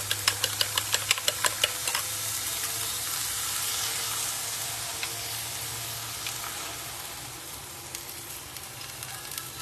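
Eggs seasoned with salt and pepper fry in a pan with a steady, close hiss and sizzle. Sharp crackling pops cluster at the start, then the sizzle carries on evenly and eases slightly toward the end, with no voices.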